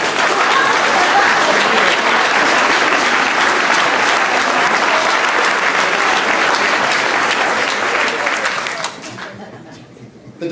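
An audience at a January 1995 diversity awards ceremony breaks into sustained, loud applause lasting about nine seconds, then fades out quickly near the end.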